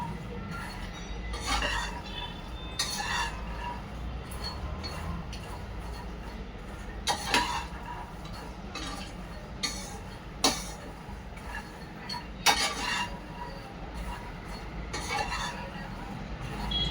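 Fox nuts (makhana) being dry-roasted and stirred in a pan, giving light scattered clicks and soft rattles over a steady low background hum, gentle and close.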